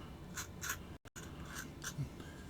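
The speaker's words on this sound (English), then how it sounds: "I'm just scraping that off" A sharp knife scrapes the edge of a wooden grip panel from a Tokarev TT pistol in a handful of short, dry strokes, close and quiet, with a brief silent gap partway through.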